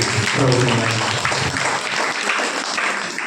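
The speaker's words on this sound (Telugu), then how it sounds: "చప్పట్లు కొట్టి" A church congregation claps hands together at a fasting prayer service, a dense patter of clapping that sets in under a voice and then carries on steadily.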